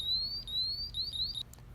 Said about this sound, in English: Now that it's all beeping like that, it's complete.